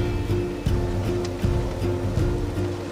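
Steady surf and rushing wind from waves up to five or six feet in shallow water over a white sandy seabed, whipped by a 30-knot wind off the Bahamas, with a low droning hum running continuously beneath the wash.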